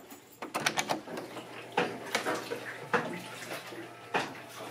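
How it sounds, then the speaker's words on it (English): A washing machine works through a load of laundry, giving irregular close knocks and thumps over a running swish of sloshing water, with no one speaking. "I just started a load of laundry. And it sounds like everything's going okay, but it's still really knocking and rocking."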